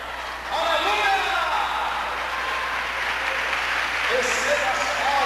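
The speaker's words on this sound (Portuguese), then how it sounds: "Receba as palmas, Jesus." Congregation at an evening church service clapping together, a steady broadband wash of applause that starts about half a second in and holds throughout, with a preacher's voice speaking over it.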